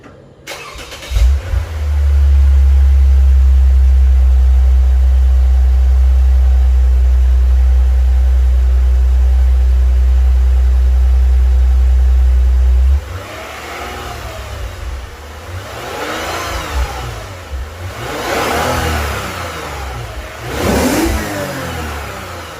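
A 2015 Lexus RC350 fitted with a Remark single-wall axleback exhaust cold-starts, then holds a loud, deep, steady idle, which cuts out before several rising revs of the engine.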